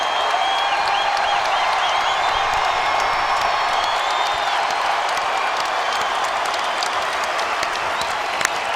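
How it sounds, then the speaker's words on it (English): A standing crowd at TD Garden applauds Paul Pierce of the Boston Celtics, producing sustained loud clapping and cheering with scattered whoops, dense and continuous for the whole stretch. "They remain standing here at the TD Garden, applauding Paul Pierce."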